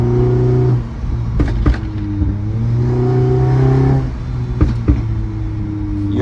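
Toyota Camry engine with a pops-and-bangs exhaust tune, revving loud and close in several sustained rises and drops, with sharp cracking pops breaking through between revs.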